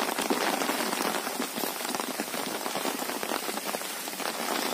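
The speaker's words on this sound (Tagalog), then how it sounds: "Grabe yung ulan." Heavy rain pours steadily onto a hard surface, a dense close patter of drops with no voices.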